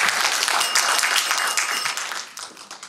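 A room of people attending a health talk on body medicine and stretching techniques claps together, a bright, dense patter of many hands close by that gradually thins and fades over three seconds.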